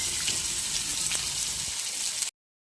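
Fresh leaves hit homemade coconut oil in an iron pan, giving a close, steady hiss of frying that runs for about two seconds and then cuts off abruptly.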